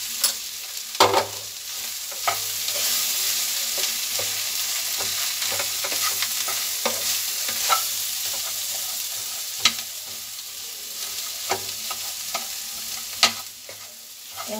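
Spiced potato samosa filling is stirred and mashed in a hot pan, with repeated scraping strokes and soft thuds over a steady sizzle and no talking.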